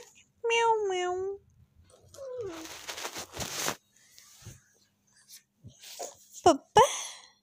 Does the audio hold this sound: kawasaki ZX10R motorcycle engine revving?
no